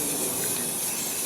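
A spray can lays a light first coat of paint on a truck, giving a steady, close, continuous hiss that holds at one level for its short duration, with no talking.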